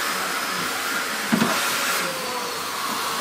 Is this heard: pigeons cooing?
no